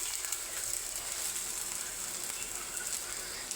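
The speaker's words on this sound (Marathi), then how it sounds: "आणि टमाट्यासोबत आणि भाजते जरा कांदा" Tomatoes and onion fry in a pan for chicken curry, giving a constant bright sizzle with faint stirring scrapes, steady and close, with no speech over it.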